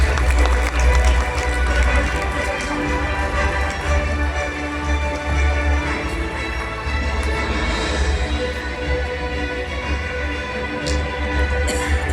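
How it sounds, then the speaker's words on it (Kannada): Audience at a film critics awards ceremony clapping steadily as a winner is congratulated, a dense, continuous wash of applause that stays loud for the whole stretch, with voices mixed in. "ದಯವಿಟ್ಟು ಜೋರಾದ ಚಪ್ಪಾಳೆ ಟು ಆದೇಶ್ ಶೆಟ್ಟಿ"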